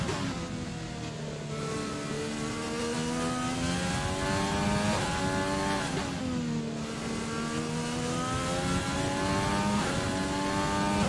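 F1 2020 race car engine in the video game, accelerating hard on the final lap, a loud sustained high-pitched whine with rising pitch sweeps between gear shifts, continuous and close throughout.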